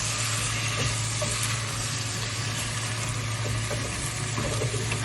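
Chicken seasoned with fish sauce sizzles and simmers in a pot as it is stirred, a continuous close frying hiss with faint scraping of the utensil and a low steady hum beneath.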